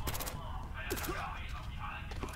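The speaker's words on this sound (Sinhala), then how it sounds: "මූ වෙඩි තියන්නේ" Gunfire in the video game IGI 2 during an island assault mission: short bursts of shots crackle over a constant dense game backdrop, with a couple of sharper reports midway, all at steady loudness.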